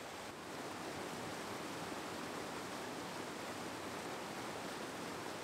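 A steady, full roar of a mountain waterfall in Czechia, broadband and constant from start to finish, with no voices.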